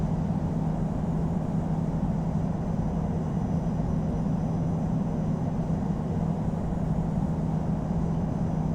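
Steady, dense engine roar of a Delta MD-11 landing at Toronto in the Infinite Flight simulator game, a constant broadband drone with no change in level throughout and no voices.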